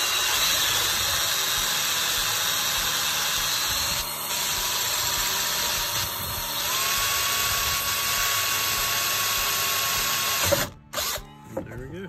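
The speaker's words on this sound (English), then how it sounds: "You just take it and drill out the center of it." A power drill drilling out a rivet on a golf cart whines steadily at high pitch for several seconds, then stops abruptly with a few clunks and a brief burst at the end.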